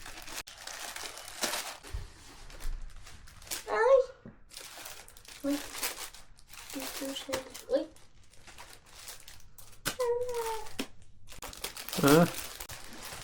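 Packaging tears and crinkles in several bursts as a gift is ripped open, close and sharp, with a child and an adult chatting between the rips.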